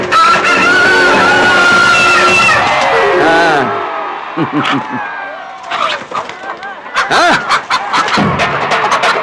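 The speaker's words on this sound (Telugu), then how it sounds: "ఇది మామూలు పుంజు కాదు, రాచమల్లు." A fighting rooster in a Telugu action film scene set around a cockfight, its harsh crowing and clucking rising loud over dense crowd noise and music, with people shouting and talking throughout.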